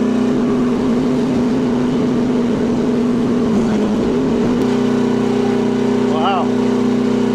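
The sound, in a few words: cheap Amazon mini excavator engine revving with throttle up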